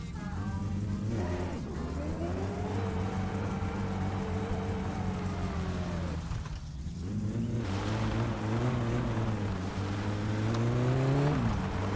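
A car engine drones steadily in the driving game My Summer Car, its pitch rising and falling as the car speeds up and shifts, loud and continuous over twelve seconds.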